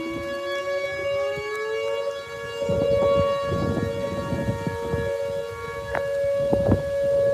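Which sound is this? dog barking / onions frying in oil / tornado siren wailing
tornado siren wailing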